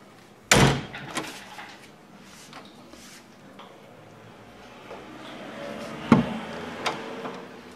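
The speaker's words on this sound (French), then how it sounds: "J'essaie de fermer la porte." A house door is pushed shut with one hand, giving a sharp thud, then fainter knocks and rattles, a second bump near the end, close and indoors with no talk.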